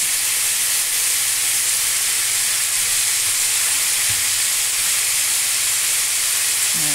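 Cabbage, chili and onion fry in a hot pan for lumpia filling, making a loud, steady, unbroken sizzling hiss that stays close and even throughout, with no talk.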